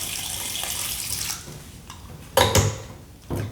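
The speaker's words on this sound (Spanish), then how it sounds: "Nos aseguramos ahora de lavarlas bien." Tap water runs into a sink while raw chicken feet are washed by hand, the rushing flow loud and close, breaking off and returning in bursts with splashes and faint clinks.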